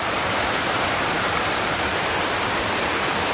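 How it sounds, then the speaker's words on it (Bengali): Rain pours steadily in a Bangladeshi village, a dense, even wash of noise with no pauses or voices. "খুব সুন্দর বৃষ্টি নামছে।"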